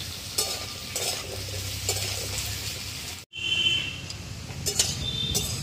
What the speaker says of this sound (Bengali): আলুটা ভাজা ভাজা হয়ে গেছে